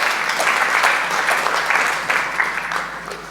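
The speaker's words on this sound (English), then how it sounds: "raise your hands now and give her a warm round of applause" A warm round of applause at a healthcare award ceremony, a dense, fairly loud crowd clapping that holds steady, then eases slightly toward the end.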